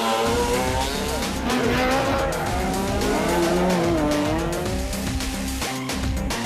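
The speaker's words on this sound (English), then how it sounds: "two evenly matched cars will race each other over different loops of the same piece of tarmac" S2000 rally cars racing head to head over tarmac loops in a Volkswagen Rally finale, engines revving loudly and continuously with shifting pitch and tire squeal, nearby and dense throughout.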